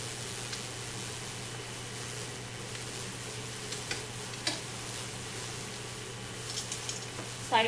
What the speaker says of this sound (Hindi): चिकन को हमने मीडियम टू लो आग पर 6 से 7 मिनट तक एक साइड से पका लिया है।